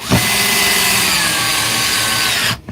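A Draper 54 volt cordless screwdriver whirs loudly at close range for over two seconds with a steady motor whine, then cuts off abruptly.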